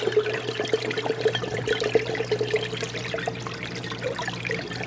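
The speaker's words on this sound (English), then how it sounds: "you can see that's where the water returns into the tank" Water returning into a cylinder reef aquarium tank makes a continuous trickling, splashing flow, with a steady low hum beneath it and no voices.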